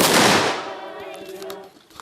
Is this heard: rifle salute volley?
yes